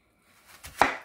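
A couple of quick knife chops through an onion on a cutting board, the second one a sharper, louder thud, close by and alone.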